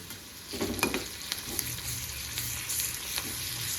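Ginger garlic paste sautéing with onions in a pan for a matki sabzi: a steady close sizzle carries a cluster of spatula scrapes early on, then lighter, scattered stirring strokes, with no one speaking.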